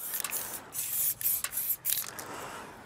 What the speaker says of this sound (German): In welcher Stärke und Breite die Farbe aus der Dose kommt, wird von den Sprühaufsätzen bestimmt.